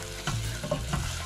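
Tempering sizzles in a hot pan for chole (chickpea curry), a steady close crackle with a few louder bursts as the mix is stirred, heard alone without talk.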